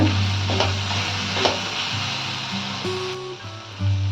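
Capsicum rice frying in a pan, a soft continuous sizzle with a couple of stirring scrapes and a low steady hum underneath.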